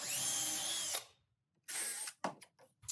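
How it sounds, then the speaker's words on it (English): A power drill pre-drills a hole, first a sustained high whine for about a second, then silence, then a longer burst followed by several short trigger pulses, all close. "This goes in place, gets pre-drilled."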